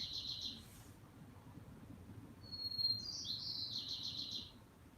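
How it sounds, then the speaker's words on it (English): White-crowned sparrow singing outdoors: a few short, clear whistled phrases and trills, moderately near, over a steady low background rumble. "That's a white crowned sparrow."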